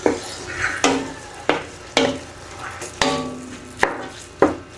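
Pork picadillo stirred in a pan, a spoon scraping and knocking against the metal in about nine regular strokes, close and moderately loud, with a soft sizzle underneath and no talking.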